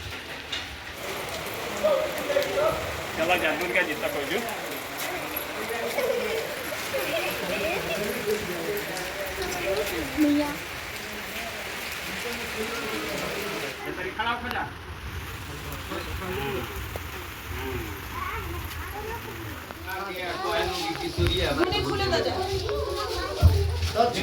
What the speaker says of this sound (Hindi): बारिश थोड़ी तेज़ हो गई